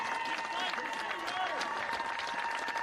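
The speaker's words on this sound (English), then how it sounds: "applauding each other, applauding the fans" A crowd of teams and fans at a football cup final applauds steadily in a sustained wash of clapping and cheering, with a commentator's voice running over it throughout.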